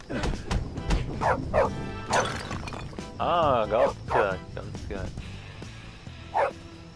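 A dog in the video game Canis Canem Edit barks and yips repeatedly in short bursts, with a whimpering, wavering tone in the middle, mixed with someone talking over it.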